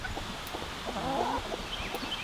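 Chickens on a farm cluck softly while being fed comfrey greens, a few low, close calls and murmurs rising briefly in the middle over outdoor background noise.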